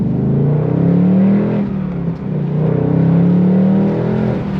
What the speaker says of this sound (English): So I can kind of give it a little bit of gas, and as you can tell, it kind of just grabbed right into first.